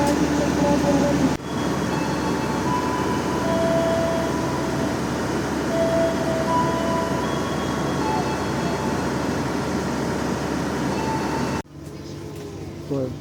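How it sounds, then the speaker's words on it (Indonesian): Cakrabuana train pulling away from Jatibarang station, a loud steady rumble of wheels and carriages close by that holds throughout, with a faint voice and tonal squeals over it, cutting off sharply near the end. "Pukul 13:27 kereta api Cakrabuana berangkat dari stasiun Jatibarang."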